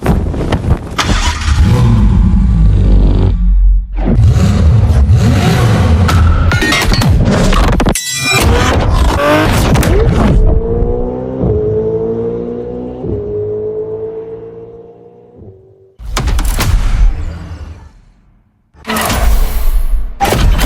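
Ferrari supercar engine in The Crew Motorfest video game, loud revving that climbs through gears in rising sweeps, a longer howling pull fading out, then sharp bursts of throttle after a short silence.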